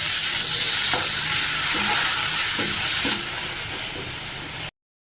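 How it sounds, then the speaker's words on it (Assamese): Soaked masoor dal hits hot oil with fried spices and turmeric, giving a loud, continuous sizzle close up, with a few soft stirring scrapes, before cutting off abruptly near the end. "মছলাখিনি ভাজ খোৱাৰ পিছত এতিয়া দিলোঁ তিয়াই ৰখা মচুৰ দাইলখিনি।"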